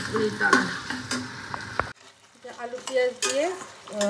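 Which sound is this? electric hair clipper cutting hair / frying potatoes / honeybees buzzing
frying potatoes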